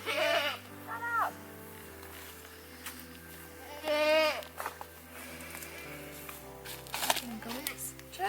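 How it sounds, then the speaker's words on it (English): Several goats bleat in short wavering cries, one early and another louder in the middle, heard alongside a garden harvest while people talk quietly nearby. "Goats."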